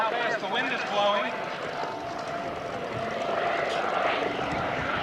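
Coast Guard rescue helicopter flying overhead at the 1995 Valiant Air Command air show, a steady loud rotor and engine roar that persists throughout, with people talking beneath it.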